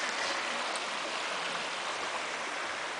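Spring water from a mountain source in the Mata Comprida hills flows in a steady, close, rushing wash that keeps an even level throughout with no talk.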